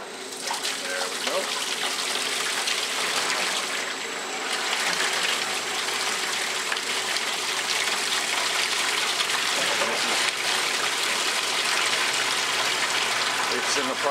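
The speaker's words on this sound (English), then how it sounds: "It's in the process of draining and spinning. These machines spin and drain at the same time." A vintage Maytag washer drains and spins at once, giving a steady loud rush of gushing water over a low mechanical hum that continues without a break.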